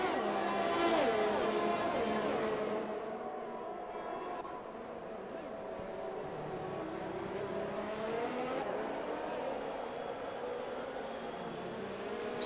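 Ferrari rally cars competing side by side at a Mexico round of the European Rally Championship, engines droning loudly and continuously with a brief tire squeal, heard alongside commentary.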